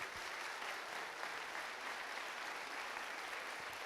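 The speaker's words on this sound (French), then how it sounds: "Je vous demande d'applaudir tous les amis qui sont là et vous applaudir vous." Audience applause at an award ceremony, an even, moderately quiet patter of many hands clapping, steady throughout with no voices standing out.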